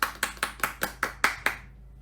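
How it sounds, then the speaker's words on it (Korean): Eight evenly spaced claps ring out at a steady beat, fairly close and clear, from a church congregation applauding a member's birthday during a Sunday online worship service, then fading into quiet. "여러분 다 같이 박수로 축하해 주시기를 바랍니다."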